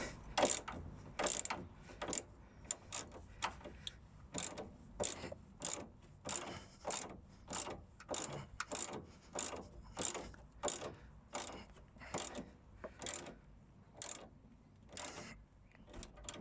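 A ratchet is worked back and forth to back out a bolt and clear its rusty threads on a Land Rover Discovery 2 Td5 during a brake disc and pad job, giving a long run of rapid, regular clicking strokes close by.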